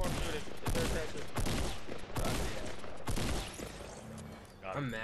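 Shotgun blasts in a multiplayer shooter game sound as repeated loud booming shots in irregular succession, close and dense, mixed with overlapping game noise and talking voices.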